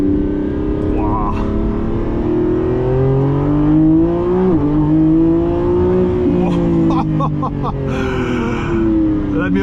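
A Lamborghini Revuelto heard from inside during a test drive, its engine holding a loud, steady drone that rises and dips in pitch as it accelerates, continuous and close throughout.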